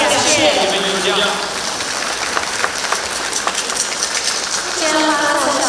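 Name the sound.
audience applause for the artists at a concert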